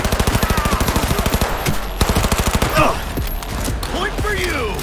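Rapid rifle fire in Cyberpunk 2077, a steady automatic stream of loud, close shots for about two seconds, then more scattered bursts over game noise and shouting voices.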